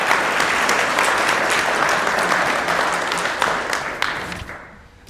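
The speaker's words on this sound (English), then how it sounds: "So once again, applause for Noah" A debate audience applauds a speaker, a dense, steady wash of many hands clapping close by that holds for several seconds and then tapers off toward the end.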